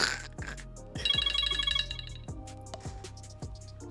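A phone ringtone plays clearly and alone, a melodic electronic tune of repeated tones with a steady rhythm.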